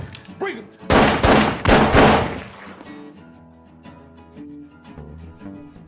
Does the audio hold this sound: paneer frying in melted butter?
no